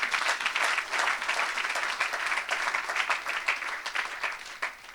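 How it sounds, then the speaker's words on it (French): A church congregation at a Sunday service breaks into loud, sustained applause, a dense wash of many hands clapping steadily for several seconds with no talking. "Est-ce qu'on peut acclamer pour cette grâce?"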